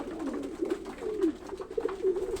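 Pigeons on a farm coo in soft, rolling, repeated calls, close by and continuous across the short stretch with no talking.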